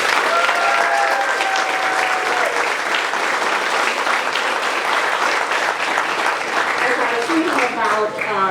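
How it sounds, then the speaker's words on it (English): An audience at an evening event applauds outstanding students, a loud, sustained wave of clapping from a large crowd lasting several seconds, with a few voices and cheers mixed in. "would you join me in giving a round of applause to these just outstanding"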